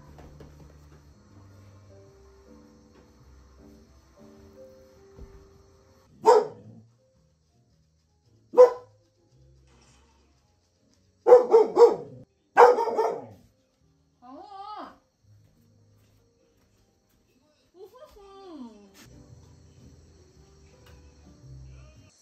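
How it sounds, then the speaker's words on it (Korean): A dog in a quiet rural home at night gives several sharp, separate barks spread over about twenty seconds, fairly close, with soft whining or vocal sounds between them over faint background noise. "짖지 마."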